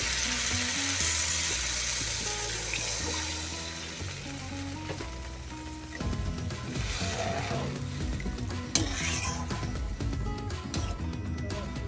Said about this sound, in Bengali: এভাবে নাড়ে চাড়ি আলুর মধ্যে মশলাটাকে ফুটিয়ে নেব